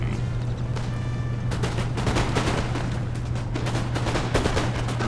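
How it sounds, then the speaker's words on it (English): Rifle volleys crack out in a Napoleonic-era battle in the Napoleon Total War video game, a dense, continuous rattle of overlapping musket shots with booming background fire, loud and sustained throughout. "I'm just basically firing at the middle line with my rifles"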